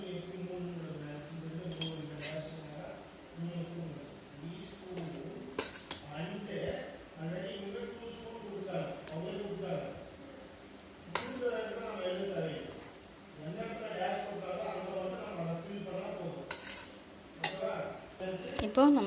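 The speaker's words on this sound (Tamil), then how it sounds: "இப்போது இதில் நம்மளுக்கு தேவையான அளவுக்கு நெய் ஊற்றிக்கலாம்." Ghee is stirred into dal rice (paruppu sadam) in a pot, a spoon clinking and scraping against the metal in scattered taps and scrapes beneath steady talk.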